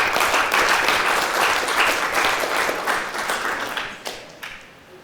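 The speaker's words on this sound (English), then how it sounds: "And this deserves a round of applause as well." Dense, sustained applause from an audience at a community mental health meeting in Summit County, a steady wash of many hands clapping that holds strong and then thins out, with a few last claps trailing off at the end.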